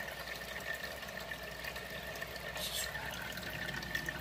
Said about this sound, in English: In our kitchen, we have this waterfall. And water. We have real water.